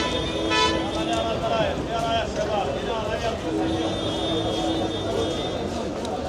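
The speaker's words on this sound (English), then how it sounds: "Escape the honking horns." Car horns toot repeatedly amid traffic noise on a busy downtown street in Amman, with several sustained honks rising over a constant rumble of vehicles while a person talks.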